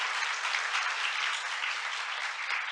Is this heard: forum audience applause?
yes